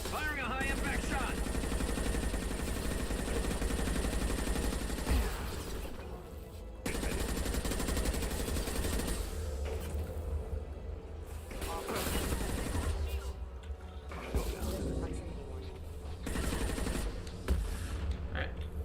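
Heavy weapon fire in the sci-fi shooter Mass Effect 2 fills the scene with dense, loud bursts of gunfire and impacts over a rumbling battle backdrop, with short pauses between volleys and some voices mixed in.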